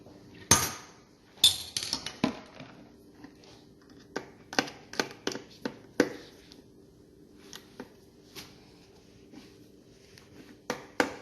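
Screwdriver tightening the wire connection on a garbage disposer during installation, heard as a series of sharp metallic clicks and taps scattered irregularly, close and fairly loud against a quiet background.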